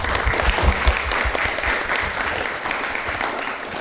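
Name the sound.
audience applause at a live broadcast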